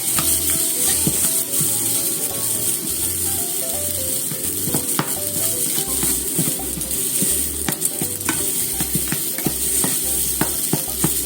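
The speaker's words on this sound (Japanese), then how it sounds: "炒めます。" Frozen mochi barley and rice, microwaved and then stir-fried in a pan, sizzling loudly and steadily with repeated scraping stirs of a utensil, close up and with no talking.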